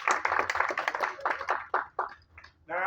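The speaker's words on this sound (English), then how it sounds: "Give yourselves a round of applause." A small group claps in a loose round of applause, with dense overlapping claps at first that thin into scattered, separate claps before fading. No one speaks.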